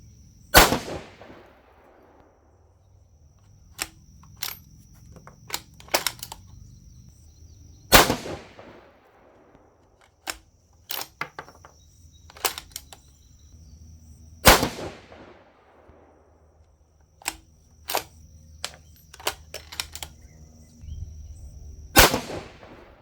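Rifle shots from a Seekins Havak Hit in 6GT firing 105-grain BTHP rounds: four sharp, loud cracks spaced several seconds apart, each trailing a short echo, with faint clicks and handling noises between shots.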